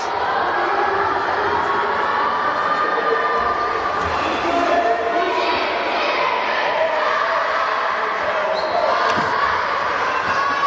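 Crowd at a school basketball game between Çağdaş Koleji and Gelişim schools, a steady, dense crowd din with scattered cheering and occasional ball bounces and squeaks, under continuous play-by-play commentary.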